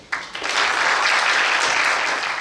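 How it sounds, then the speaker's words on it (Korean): Audience applause greets a guest lecturer at a science and technology seminar, a dense, steady wash of many clapping hands that swells quickly after a brief lull and holds at full strength. "큰 박수로 환영해 주시기 바랍니다."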